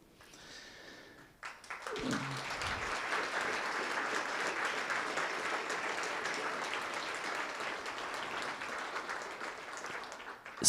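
Audience at a university humanities and global studies spring award ceremony applauds as faculty members stand; after a quiet start, a steady, dense round of clapping swells and sustains for several seconds.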